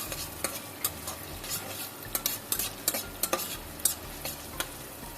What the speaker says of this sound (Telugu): ఇప్పుడు మనం ముందుగా కట్ చేసి పెట్టుకున్న పచ్చిమిర్చి ముక్కలు వేసుకుందాం ఉల్లిగడ్డ ముక్కలు కూడా వేసుకుందాం ఇప్పుడు వీటిని ఒకసారి అలా కలుపుకుందాం